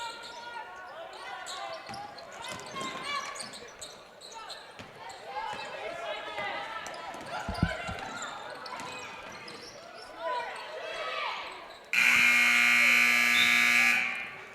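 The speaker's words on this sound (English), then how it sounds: "there's the buzzer. That signals the end of the first half" Gymnasium buzzer ending the first half of a girls' JV basketball game, West Rutland vs Windsor: a loud, steady electronic tone lasting about two and a half seconds, cutting in sharply after crowd noise and bouncing balls.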